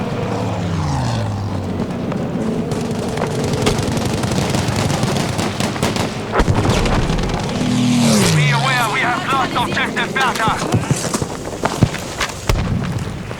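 Loud Battlefield V battlefield noise with heavy booming artillery cannon blasts and engine drone, gunfire and explosions overlapping while people talk throughout.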